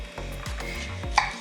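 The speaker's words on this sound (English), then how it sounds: "don't judge my chopping skills" A knife chops vegetables on a cutting board for a vegan stir fry, with a handful of dull, irregular thuds and one brighter clack, close and alone.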